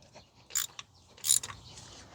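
A few quick metallic ratcheting clicks in two short bursts as a ratchet loosens spark plugs on a 2015 Toyota Sienna 3.5 V6, close by, with quiet pauses in between.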